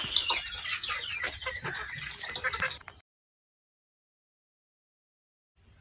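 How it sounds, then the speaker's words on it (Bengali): Desi chickens cluck busily and close by while pecking at homemade feed, a rapid burst of calls lasting about three seconds before falling silent. "মুরগিগুলো কিন্তু খুব মজা করে খাচ্ছে"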